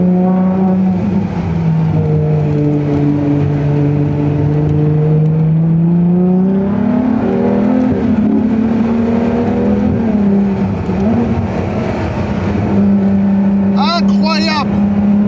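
Ferrari Monza SP engine droning steadily while driving, its tone sagging and climbing through gear and throttle changes, a sustained close-up hum heard from inside the car under faint voices.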